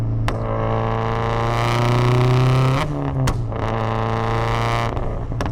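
A tuned 400 hp Subaru STi running E85, with an open wastegate and catless exhaust, revs loudly up close, its engine note climbing and holding before dropping back with sharp pops and crackles.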